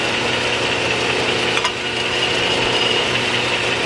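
Survival knife blade under a belt grinder, working the primary bevel along the bevel line: a steady, dense abrasive rasp runs close and loud throughout with a brief shift partway, no voices.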